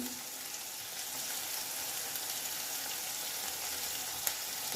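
Elephant foot yam and prawns frying in oil with chili powder, a steady even sizzle throughout with a faint clink near the end.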